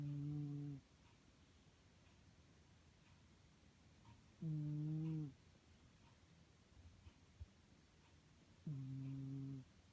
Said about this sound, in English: Cat is snoring.